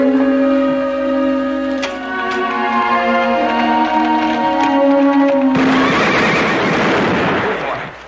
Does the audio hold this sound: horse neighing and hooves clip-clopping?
yes